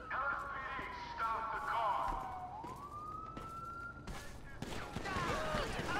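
Gunfire bursts in GTA 5 with the LSPDFR police mod, cracking under a wailing police siren that sweeps up and down, with a voice talking over the scene and a busy game soundscape.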